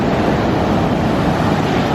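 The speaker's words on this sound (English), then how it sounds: "I mean, you hear the ocean, of course." Ocean waves wash steadily onto a dark beach at night, a broad continuous roar of surf with some wind noise, loud and unbroken throughout.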